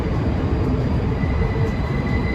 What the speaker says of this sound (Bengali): যেহেতু উপর দিয়ে ট্রেন যাচ্ছে 7 ট্রেন এন ট্রেন